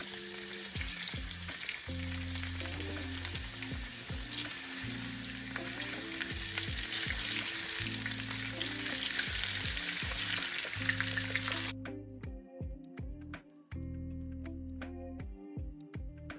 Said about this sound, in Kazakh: Қызған майдың үстіне картоптарымызды салып, жақсылап қуырып аламыз.